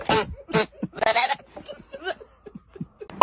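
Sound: goat bleating

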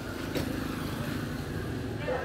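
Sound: used Japanese lawn mower engine starting and running

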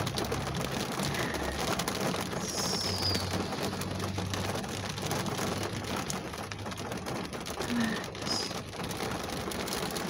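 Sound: rain falling on a car

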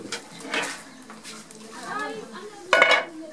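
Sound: steamer pot being taken off cooking pot

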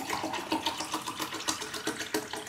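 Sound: pouring RO water into a plant pot

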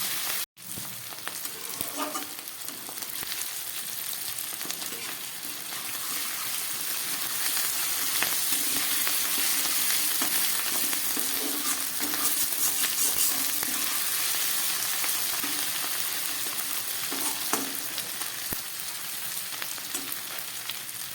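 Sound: chicken masala being fried on low gas

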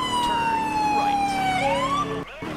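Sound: high-low police siren in GTA IV video game

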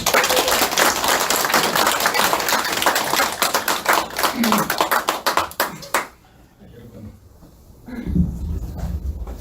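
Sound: audience applause welcoming a speaker

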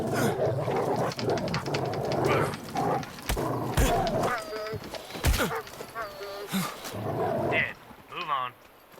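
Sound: wolf growling in Sniper Ghost Warrior 3 video game

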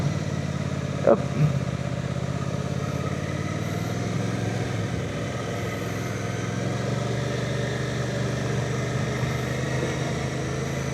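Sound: Suzuki V-Strom 800DE motorcycle riding

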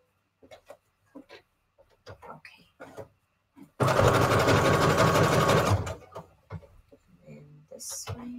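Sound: sewing machine stitching fabric scraps

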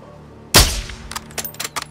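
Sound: gunfire in video game Call of Duty Modern Warfare 2

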